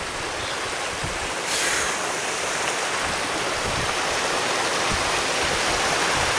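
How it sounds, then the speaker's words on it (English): A mountain waterfall roars steadily and loudly, a dense continuous rush of falling water with no breaks and no voices. "we are debating whether to climb the actual waterfall"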